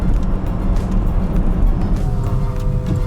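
Compact electric campervan on the move and turning, a steady road rumble and tyre noise from inside the cabin with a faint rising motor whine.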